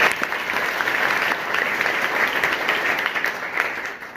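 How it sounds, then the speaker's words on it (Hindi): Audience at a school event in Varanasi breaks into loud, steady applause, dense clapping from many hands held at an even level throughout with no voices over it. "तो एक बार मां के लिए जोरदार ताली बजा दो।"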